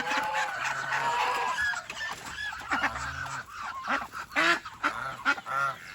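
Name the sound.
chicks and poultry calling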